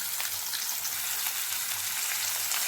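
Turmeric-and-salt coated hilsa fish sizzles in oil in a wok, a soft, even crackle with faint spits and pops, heard up close and alone.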